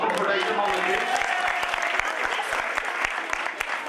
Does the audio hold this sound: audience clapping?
yes